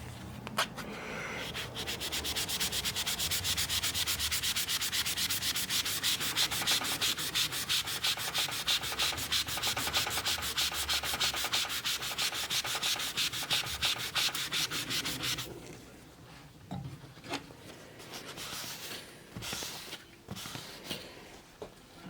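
A magic eraser with alcohol scrubs a 1976 Bally Flip Flop pinball playfield in fast, even strokes for about fifteen seconds, loud and close, then gives way to scattered quieter rubs and handling noises.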